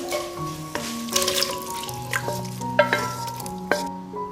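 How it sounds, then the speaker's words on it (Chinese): Pork is stir-fried in a wok with scallion, ginger, garlic, soy sauce and oyster sauce: a fairly loud, steady sizzle with scraping stir strokes and a few clanks, alone without talk. "来点生抽、蚝油，给它翻均匀。"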